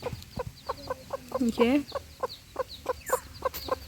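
A hen clucks in a rapid series of short, near clucks while her chicks peep softly around her, with a brief high call midway; a voice speaks a word once.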